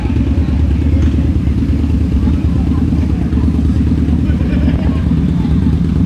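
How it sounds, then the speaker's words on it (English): Motorcycles arrive at a large gathering in a loud, continuous engine rumble that stays close and dense throughout. "these are bikes that are still arriving"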